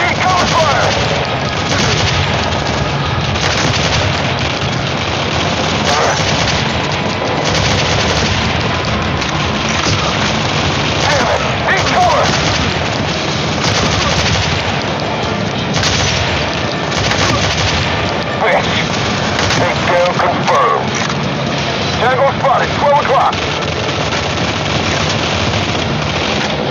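Dense video game battle from Modern Combat 3 near an overpass, with continuous rattling gunfire, booms of explosions and RPG blasts layered loudly over a steady roar of combat noise, with shouted voices mixed in.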